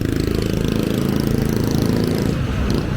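Steady, loud road traffic on a busy street in Hensonville, Angeles City, with cars and motorcycles passing as a continuous engine rumble throughout.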